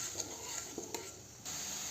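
A paste of chilli, coriander and turmeric powders goes into a hot pan for ghugni, producing a faint, brief sizzle with a few quick stirring scrapes and taps, no speech.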